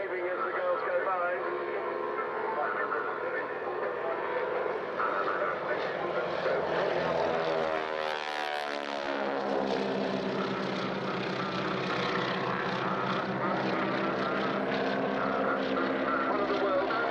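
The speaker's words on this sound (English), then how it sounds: "Big engine on this 450 horsepower Pratt & Whitney engine." A classic training aircraft with a 450 horsepower Pratt & Whitney radial engine flies past at an airshow, a loud droning engine that rises and sweeps by overhead around the middle, with announcer commentary throughout.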